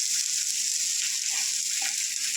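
Chopped green garlic shoots fry in hot oil in a pan for a thecha, a steady close sizzle with faint stirring scrapes and no talking.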